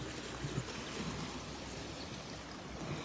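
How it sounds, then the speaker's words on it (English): Steady, dense rushing of a swollen creek in Spring Valley after flooding, a continuous broadband roar with no breaks and no voices. "Here's the creek in Spring Valley."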